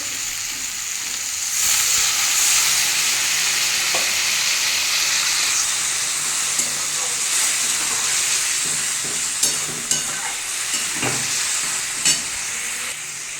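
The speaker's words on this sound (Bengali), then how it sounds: "আমি এবারে সামান্য জল দিয়ে দেবো বেশি জল দেবো না" Water poured into a hot pan of bitter gourd charchhodi with fish head and drumsticks: a steady, bright sizzle that swells as the water goes in, then hisses on with occasional soft clicks of a spoon, no voices.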